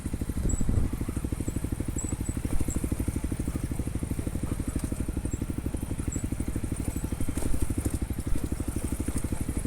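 A BMW R 1250 motorcycle idles on a challenging mountain road in Nepal, its engine giving a steady, even low pulsing close by, with faint crackling and high chirps above it and no talk.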